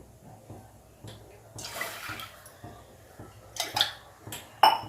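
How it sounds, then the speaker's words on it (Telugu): Water is poured into a pot on a stove to make kadha, an Indian herbal drink. The pour comes in faint, uneven splashes with a few sharp clinks of metal near the end. "ఒక 2 గ్లాసెస్ వాటర్ పోస్తున్నాను."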